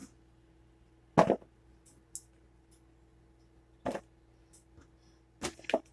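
Cut tomatillo halves dropped into a bowl for salsa verde, three or four soft, separate thuds and plops with quiet gaps between them, close by, no talk.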